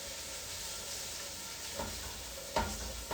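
Whole garlic cloves and a cinnamon stick sizzling in a hot pan over high heat, a steady quiet frying hiss with a couple of sharper stirring clatters near the end.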